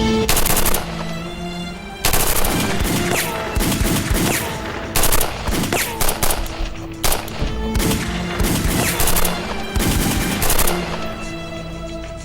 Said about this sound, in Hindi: स्नाइपर्स, इन पर फायर करो, रोको इनको।